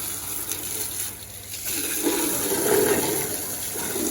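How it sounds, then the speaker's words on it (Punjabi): Water rushes and splashes steadily from a hose as farm equipment is washed. The gushing swells louder in the second half and carries on without any speech. "ਪਾਣੀ ਦੇਖੋ ਹੁਣ ਚਮਕਾਰੇ ਮਾਰਦਾ ਹੈ"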